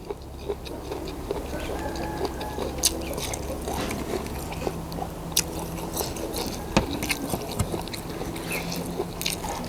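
Close crunchy chewing of squid tentacles, with sharp bites and crackles repeating irregularly over a low background hum.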